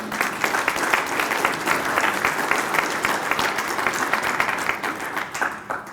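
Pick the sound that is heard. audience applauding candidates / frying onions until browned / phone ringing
audience applauding candidates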